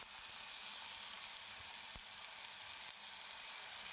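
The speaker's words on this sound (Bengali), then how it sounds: "ঘি দেওয়ার পরে এটা যখন একদম গলে গেল ঘিটা, তারপরে আমি ওই ভেজানো গোবিন্দভোগ চালটা দিয়ে দিলাম" Soaked Gobindobhog rice fries in melted ghee, giving a steady, even sizzle that holds at a constant level throughout, with a faint tap from a utensil partway through and no voices.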